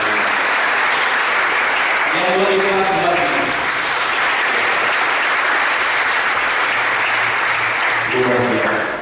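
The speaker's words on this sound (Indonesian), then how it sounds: "Mari beri tepuk tangan saudara-saudara" A congregation claps during a Salvation Army worship service in Palu. The dense, continuous applause holds throughout, with a voice speaking briefly over it near the start and again near the end.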